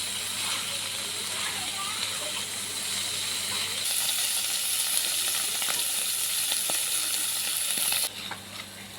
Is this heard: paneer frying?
yes